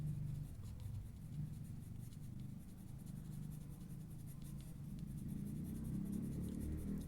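A pencil shades on paper while drawing clothes, producing a continuous soft scratchy rasp, steady and close, with no talking.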